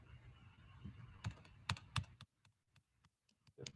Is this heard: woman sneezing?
no